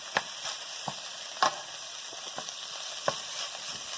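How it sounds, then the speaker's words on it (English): Trimmed beef fat renders in a skillet with a steady, close sizzle, broken by a few sharp clicks as the pieces are pushed around the pan. "There's the fat I trimmed off, and I'm going to put it in my skillet to render off."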